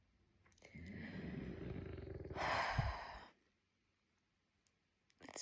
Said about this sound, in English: Snoring away next to me